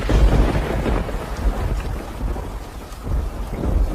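Heavy thunderstorm with rain: dense rain hiss over deep, rumbling low thunder that swells and recedes throughout, loud and close, with no voices.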